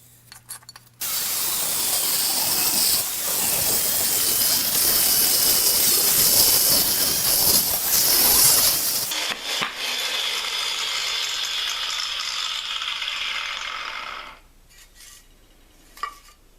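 A 4.5 inch angle grinder fitted with a masonry wheel cuts firebrick for a wood stove firebox, giving a loud, harsh, steady grinding roar for about eight seconds. It eases into a lighter whir before cutting out near the end.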